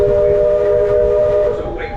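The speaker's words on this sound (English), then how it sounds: "please wait until the train has come to a complete stop" Walt Disney World Railroad train standing at a station platform, a steady loud tonal hum or whistle-like drone holding throughout with rumbling low noise beneath.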